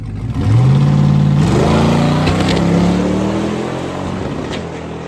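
A rough-running race car engine revs hard up close, climbing in pitch and holding at a loud, slightly ragged drone before easing off, no voices.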